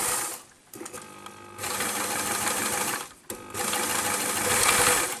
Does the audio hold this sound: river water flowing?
no